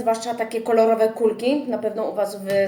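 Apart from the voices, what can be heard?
None of the usual background noises is heard.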